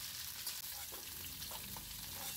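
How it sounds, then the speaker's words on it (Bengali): Cauliflower frying in a pan produces a continuous dense sizzle and crackle, steady and fairly quiet throughout, with no talking. "সব ফুলকপি ভাজা হয়ে গেছে।"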